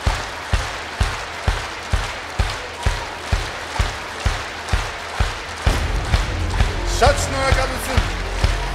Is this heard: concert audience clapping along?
yes